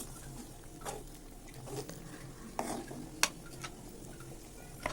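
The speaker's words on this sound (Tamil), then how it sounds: "இது கொஞ்சம் நல்லா கொதிக்கிட்டோம்." Fish curry with an extra piece of fish added bubbles in a pot in a home kitchen, with a ladle stirring and scraping in a few distinct clinks against the pot over a steady low simmer. No one speaks.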